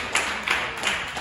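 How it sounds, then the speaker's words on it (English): Short bursts of audience applause at a Nashville Broadway honky tonk, recurring in about four pulses over a little more than a second, steady and moderately loud, with no voices. "So give a big round of applause for Morgan."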